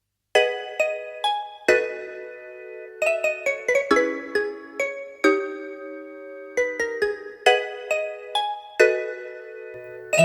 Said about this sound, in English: And this is just the mallet pop setting.